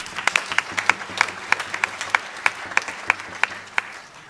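Audience at a live show in Namur claps in a sparse, uneven patter of distinct individual claps, fairly close and moderately loud, with no talking over it.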